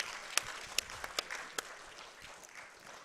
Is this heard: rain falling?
no